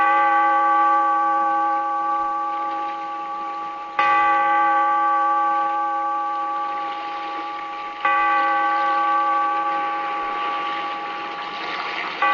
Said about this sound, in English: Bellkeeper, toll the bell